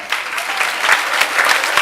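Dense, steady applause from an audience at a career guidance event, honoring teachers, with bright, continuous clapping that stays loud and even throughout.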